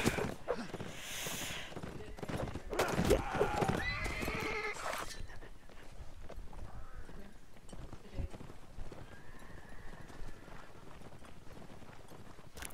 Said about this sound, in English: I get trampled by horses.